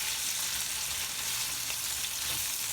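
Meat and onions sizzle steadily in a hot pan as they are stirred, a close, even frying hiss with faint scraping and no talking.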